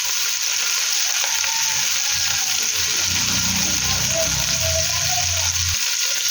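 Tomato paste sizzles and fries in a pan while biryani is cooked, a steady close hiss with some stirring and scraping that grows busier in the middle of the clip.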